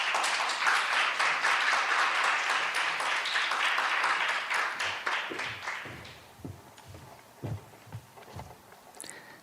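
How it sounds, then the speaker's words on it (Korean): Audience applause welcomes panelists onto the stage at a digital inclusion forum session, a dense steady clapping that lasts about six seconds and then fades, leaving scattered footsteps and light knocks. "들어오실 때 큰 박수로 맞이해 주시면 감사하겠습니다"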